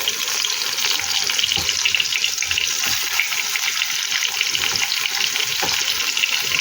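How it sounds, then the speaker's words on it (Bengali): Sliced onions frying in oil in a kadai, just used for frying fish, a loud steady hiss and crackle with occasional stirring clinks, continuous and close, no talk. "এই কড়াইয়ের মধ্যে আমি লম্বা করে কেটে রাখা পেঁয়াজ দিয়ে দেবো"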